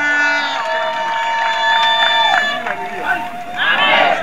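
A political rally crowd in Mbeya, Tanzania, responds to praise for Dr. Samia Suluhu Hassan. A loud amplified voice carries over the crowd, then a swell of cheering and clapping rises at the end.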